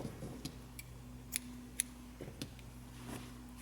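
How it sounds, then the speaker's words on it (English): Scissors snipping through crochet yarn after finishing a slipper bootie, a couple of small, sharp clicks near the middle of a quiet stretch with faint background hum. "Chain 1 and cut your yarn."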